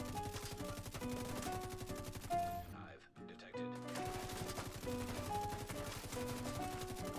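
Rapid automatic PDW gunfire in a first-person shooter video game, sustained bursts with a brief pause midway, loud and close under dense game music and effects.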